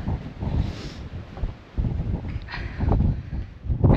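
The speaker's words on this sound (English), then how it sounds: "Oh, it's windy." Wind gusting outdoors on a hillside walk, buffeting the microphone in uneven low rumbling surges that rise and fall, with no voices.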